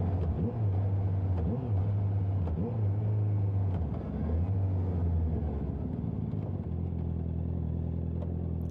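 A Honda CB650R motorcycle fitted with an Akrapovic exhaust rumbles nearby, its engine pulsing through a few gentle throttle blips over a steady idle.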